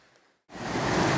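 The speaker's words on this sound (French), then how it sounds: "Alors nous voici ici aux cascades d'Augerolles." Waterfall at the Cascades d'Augerolles in rainy weather, a near-silent start suddenly giving way to a loud, steady roar of rushing water that holds to the end.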